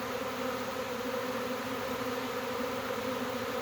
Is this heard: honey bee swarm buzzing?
yes